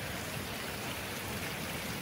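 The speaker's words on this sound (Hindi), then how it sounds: "देखिए बारिश हो रहा है।" Rain falling outdoors near pooled water, a steady even hiss of drops with no pauses, fairly faint and with no voices.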